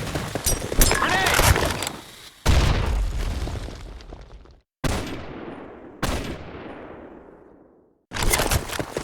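Grenade blasts and gunfire in the Blackshot shooter game on the Sandstorm map, several loud booming bursts with sharp onsets and decaying tails, separated by brief silent gaps, with a voice shouting among them.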